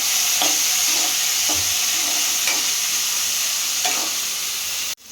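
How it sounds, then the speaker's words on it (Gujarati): Tomatoes frying in oil in a pan for a lunch-box upma and bread pakoda, a loud, continuous hiss with faint periodic scrapes of stirring, close up, ending in a sudden cutoff, no voices. "એના અંદર ટામેટાં એડ કરી દઈશ. એને પણ થોડી વાર શેકાવા દેવાનું."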